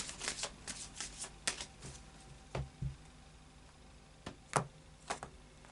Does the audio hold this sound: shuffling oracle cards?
yes